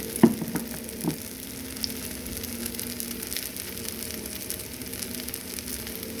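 Rava dosa batter from Parivar instant mix sizzles on a hot Lodge cast iron griddle, a steady soft hiss throughout with a few light clicks and taps near the start, no talking.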